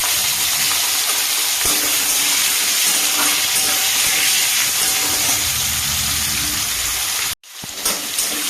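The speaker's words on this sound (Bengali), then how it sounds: "একটু ভেজে নেব।" Diced pumpkin and potato frying in hot mustard oil, giving a loud, steady sizzling hiss that runs unbroken for about seven seconds before cutting out briefly and resuming.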